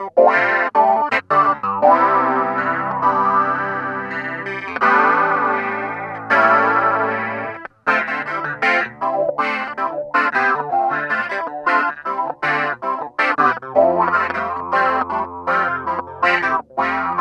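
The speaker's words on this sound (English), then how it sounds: "Let's try and add some chorus." Hohner Clavinet D6 played through a chorus effect, with bright, percussive plucked chords and funky staccato riffs given a shimmering, slightly distorted tone, continuous and close with no talk.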